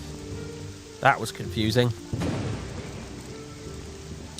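Steady rain falls throughout in the video game Morrowind, with a brief louder burst like thunder partway through, while someone speaks briefly over it.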